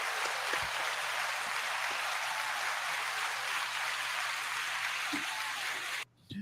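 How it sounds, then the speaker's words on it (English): Audience applause for reviewer Jamel Watson on a podcast: a steady, soft wash of clapping, distant and even throughout, cutting out abruptly near the end. "Give him a round of applause, everybody."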